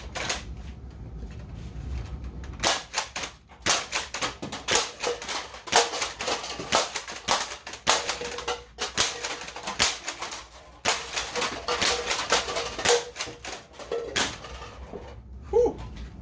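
Adventure Force Conquest Pro dart blaster being handled and fired, with a burst of sharp plastic clacks and snapping shots in quick irregular succession, loud and close, broken by brief pauses.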